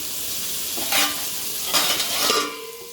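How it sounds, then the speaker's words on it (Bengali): Pointed gourd (potol) frying with a little turmeric in a covered pan, a steady hiss of sizzling oil with a few louder bursts of crackle, close and continuous with no voices. "ঢেকে ঢেকে আস্তে আস্তে পটলটা ভেজে দেবো"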